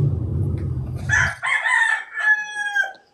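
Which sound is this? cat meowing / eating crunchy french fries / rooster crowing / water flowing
rooster crowing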